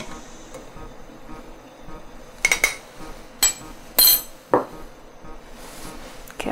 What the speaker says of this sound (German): den Strunk hier rausschneiden